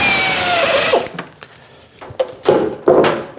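A 1/4 inch carbide end mill cutting a toolpost clamp, a loud steady whine that stops after about a second, followed by several short bursts of cutting noise.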